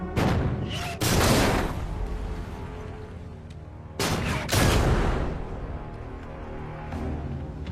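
A World War II submarine deck gun fires at a freighter, two heavy booming bursts with rumbling gunfire around them, loud and close against a steady noisy background.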